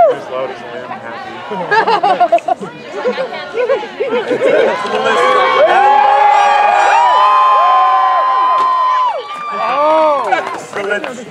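A crowd at a medieval-fair joust cheers and whoops loudly, building into a sustained roar of voices with an announcer-style shout mixed in.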